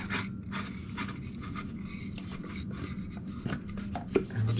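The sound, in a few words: spinning Hayward pool pump impeller onto shaft with wrench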